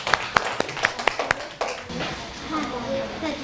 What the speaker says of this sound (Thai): ปรบมือให้กลุ่มที่สองนะลูก